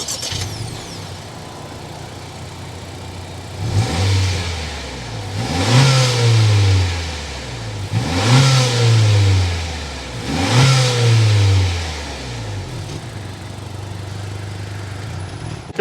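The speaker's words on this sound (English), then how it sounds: "Let's start it up so you can hear that exhaust note." A 2023 Honda Accord EX with a turbocharged engine settles into a steady idle, then its exhaust swells through three revs in a row, each rising and falling back before the engine drops to idle again.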